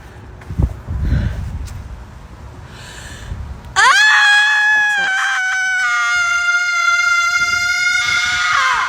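A woman's prolonged, piercing scream rings out alone in a quiet outdoor natural setting, loud and sustained for several seconds after brief faint sounds and a short gasp.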